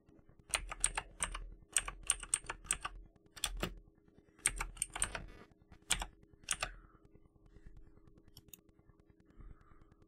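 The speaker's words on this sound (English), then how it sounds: "Open the control panel by typing control panel into start menu search box" Someone types into the Windows 11 Start menu search box on a computer keyboard, producing irregular bursts of crisp, close keystrokes separated by short pauses in an otherwise quiet room.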